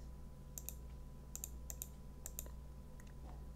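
Light clicks from a computer mouse selecting options in a mod installer, a handful of quick, faint single and double clicks over a low steady hum.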